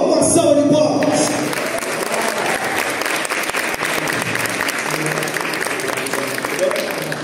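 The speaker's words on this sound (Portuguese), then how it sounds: "Uma salva de palmas." An audience at an entrepreneurship talk breaks into loud, sustained applause as the speaker is introduced, dense clapping rising sharply at the start and continuing strongly throughout, with a murmur of crowd noise beneath.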